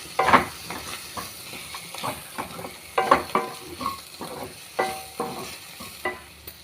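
One spoon of chili powder frying in a pan for a koyathotakura curry, a soft sizzle with repeated scraping stirs in an uneven rhythm, fairly quiet and close.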